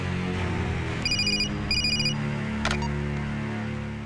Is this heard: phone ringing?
yes